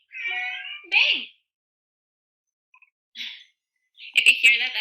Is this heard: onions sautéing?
no